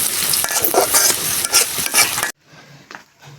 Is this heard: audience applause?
no